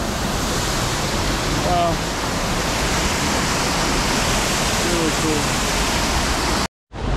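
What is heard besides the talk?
splashing water from a fountain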